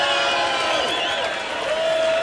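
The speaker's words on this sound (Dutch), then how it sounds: "Maak ik een heel hard applaus voor Bart." Studio audience for the Big Brother 2000 television show breaks into loud applause and cheering, a dense crowd sound that carries on steadily for a couple of seconds.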